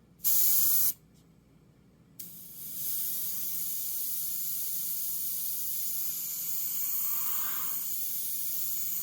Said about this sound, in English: And spray right on the film.